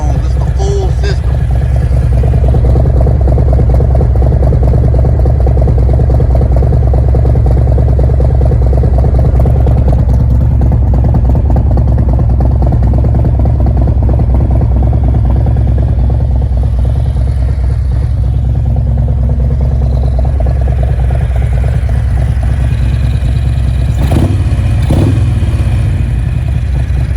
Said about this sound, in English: what Khrome Werks exhaust sounds like with torque cams, this is not slip-ons, this is the full system.